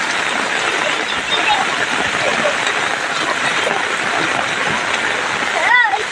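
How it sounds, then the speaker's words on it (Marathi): Rainwater rushes down a road in a continuous loud wash of flowing, splashing water after half an hour of heavy rain, close by and unbroken. "किती पाणी जाता बघा."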